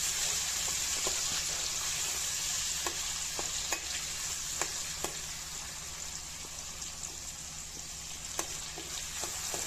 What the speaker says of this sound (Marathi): ही एकदम व्यवस्थित तेलामध्ये आपल्याला फ्राय होऊ द्यायची आहे।